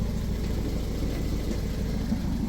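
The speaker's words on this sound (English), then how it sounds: "the exhaust is blowing. It does sound like a bit of a tractor when you take it down the road." A Toyota MR2 engine with a blowing exhaust runs steadily, a dense, low, rough drone with a tractor-like rumble, close and continuous for the whole short stretch with no other sounds.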